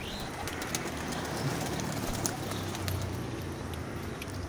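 A 25-year-old pigeon coos softly and repeatedly, low murmuring calls set against a faint background hiss and light patter.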